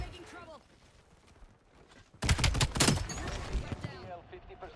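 Gunfire rings out in a shooter video game: a quiet stretch, then a sudden burst of rapid, loud shots that echoes on for a couple of seconds, with a voice talking underneath.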